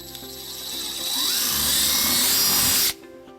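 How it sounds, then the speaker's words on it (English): A power drill with a 3/16-inch bit whines loudly, rising in pitch as it spins up and bores for about two seconds, then cuts off abruptly, leaving quiet room noise. "using a 3/16 drill bit, we're gonna drill our first hole"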